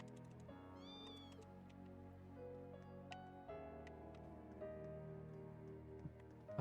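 Cat meowing in the video game Trails into Reverie, a few short high meows over steady game background music, moderately quiet and with no talking.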